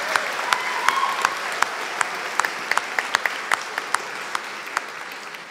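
Graduation ceremony crowd applauding the graduates, a steady wash of many hands clapping at moderate loudness, with sharper individual claps popping out above the sustained roar.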